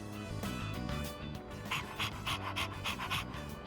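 A dog pants in Persona 3 Reload, rapid rhythmic breaths repeating over game background music, fairly close and steady.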